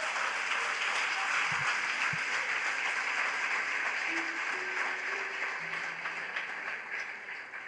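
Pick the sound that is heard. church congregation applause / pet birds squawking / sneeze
church congregation applause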